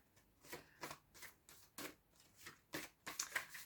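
Large tarot cards being shuffled in a series of soft riffling bursts, roughly one every half second, close and quiet with no voices.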